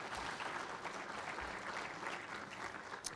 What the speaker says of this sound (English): I think that deserves a good round of applause.